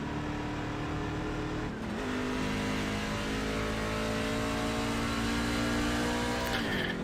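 A race car engine in a racing video game holds a loud, sustained high-pitched whine, rising steadily through gears with brief dips at shifts and no talking.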